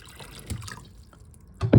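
Water poured into the tray of a 6-inch diamond tile trim saw, a brief dripping splash followed by a louder close pour.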